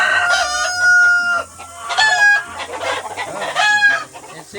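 Chickens kept for composting cluck and squawk loudly and close by, their calls coming in repeated bursts and overlapping one another.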